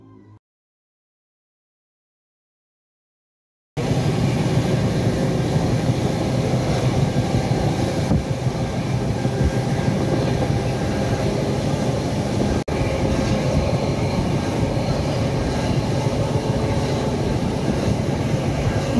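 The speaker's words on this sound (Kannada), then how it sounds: "ಇತ್ತೆ ಟ್ರೈನ್ ಮುಲ್ಪಡ್ದು ಪಿದಡುಂಡು ಎಂಕ್ಲು ಬ್ಯಾಂಗ್ಳೂರ್ ಸ್ಟೇಷನ್ ಇತ್ತೆ ಬುಡೊಂದುಲ್ಲ." A passenger train pulls out of Bangalore station with a steady, loud rolling rumble and rattle that starts abruptly after a few seconds of silence and carries on without a break. No one speaks.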